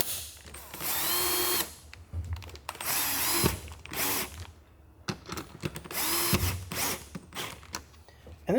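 A power drill drives screws into the third brake light housing of a 2004–2008 Ford F-150, heard as several loud, close whirring bursts separated by short pauses and clicks of handling.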